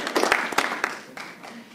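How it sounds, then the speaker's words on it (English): Brief audience applause at a North Ridgeville master plan meeting: a handful of scattered claps close by that thin out and fade quickly. "let's give them a round of applause"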